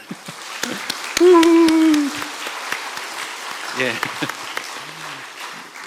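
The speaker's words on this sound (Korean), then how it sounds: "한번 박수 합시다" A church congregation at a Sunday morning service marking the church's anniversary claps in scattered, uneven bursts, while a voice briefly speaks over the claps.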